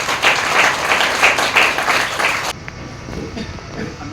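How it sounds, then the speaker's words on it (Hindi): An audience claps steadily and loudly at a cricket academy training session event, then the applause cuts off abruptly and low murmuring remains. "आपकी तालियां बजती रहनी चाहिए।"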